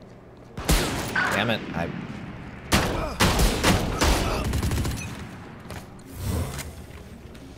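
Gun shots in the Valorant video game, several sharp separate cracks and short bursts spread across the stretch, loud and close, with a frustrated player talking between and under them.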